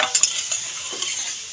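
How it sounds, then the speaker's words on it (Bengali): A potato curry gravy comes to a boil in a pot, giving a close, continuous bubbling hiss with a few soft clicks and stirs. No voices are heard. "ঝোল ফুটতে শুরু করে দিয়েছে।"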